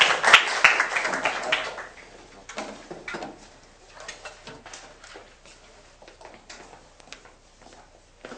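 A classroom audience in a university service design class claps: a dense, loud burst of applause at the start fades into scattered, softer individual claps.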